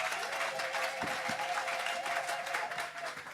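A church congregation claps and cheers in a steady, dense wash of applause during a French-language worship service, fairly distant and continuous without pause.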